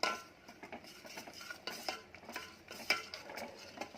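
Spoon scraping and stirring paan sharbat in a metal pot over a gas flame, with repeated soft clinks and swishes in an uneven rhythm, close by and alone.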